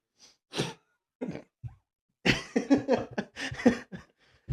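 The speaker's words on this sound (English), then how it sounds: "Sorry, I got a bad cough." A person with a bad cough coughs several times in separate bursts, close and fairly loud, with throat-clearing sounds and a run of harsh coughs near the end.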